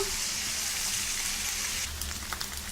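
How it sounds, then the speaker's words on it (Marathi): Paneer fries in a little oil in a kadhai, giving a soft, steady hiss like light rain, faint and close, with a few sharper crackles near the end. "पनीर थोडे तेलात परतून घेऊया"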